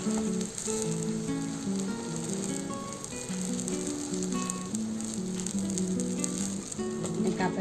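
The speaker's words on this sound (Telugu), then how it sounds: "టర్న్ చేసుకొని బాగా ఫ్రై చేసుకోవాలి." A jowar flour breakfast sizzles and fries steadily in a pan, a close, continuous crackle with no voices.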